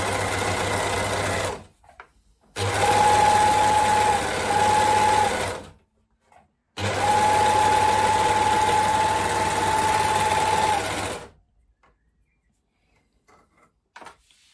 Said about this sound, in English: I'm just going to trim off the very edge as I overlock the end of the seam